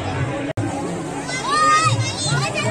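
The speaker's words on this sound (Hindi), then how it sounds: "भाई कितनी भीड़ हो रही है आज संडे को, बहुत भीड़ है" A busy crowd of people at Triveni Ghat, Rishikesh, on a Sunday: a continuous close murmur of voices and children, with someone talking over it.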